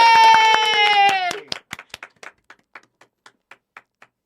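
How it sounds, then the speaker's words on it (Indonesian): Clapping for a student association chair and vice chair, starting under a loud voice and then carrying on alone as a sparse, fading series of distinct claps from just a few hands at close range. "Weh, tepuk tangan."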